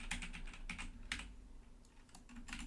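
A computer keyboard with keys pressed for Unity editor shortcuts on the top row: clusters of sharp, close clicks, a few quick taps, a brief pause, then more, over a low steady hum.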